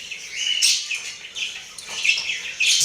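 A male zebra finch calls in a quick series of short, bright, nasal chirps, repeated at close range with brief gaps between them and no talking.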